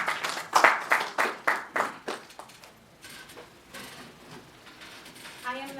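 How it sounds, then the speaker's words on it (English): Audience members at a book launch give a short burst of rhythmic claps, loud and close for about two seconds before trailing off into faint room noise and a brief voice. "A round of applause for that, please."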